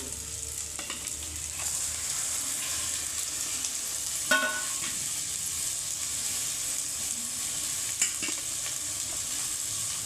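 Chicken sizzling in hot oil in a pan for biryani, a steady loud frying hiss throughout, with a few scraping stirs and light clinks of a utensil, close by, with no voices.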